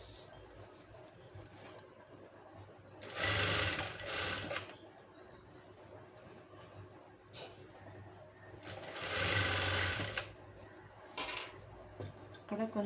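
Sewing machine stitching a blouse neckline with a presser foot, running in two distinct bursts of a few seconds each, with quieter fabric handling and light clicks in between; no talking.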